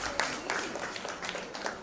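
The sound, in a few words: audience applause at a book launch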